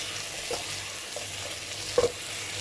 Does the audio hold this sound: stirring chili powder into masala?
yes